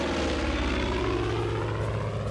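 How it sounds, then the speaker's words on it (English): Aircraft engine drone from the Far Cry 5 video game near an airfield, a loud, steady propeller or rotor roar filling the whole stretch with no voices. "Another helicopter."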